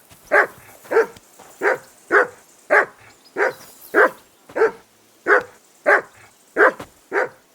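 A dog in Kingdom Come Deliverance 2 barks about a dozen times in an even, regular rhythm, each sharp bark loud and close against a quiet background.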